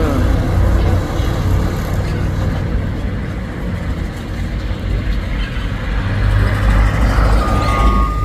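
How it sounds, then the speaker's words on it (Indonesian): Heavy trailer trucks labour along a hill road, a loud, close, continuous low engine drone that swells and fades slightly as they pass, with traffic noise layered over it. "Ada 2 unit truk trailer."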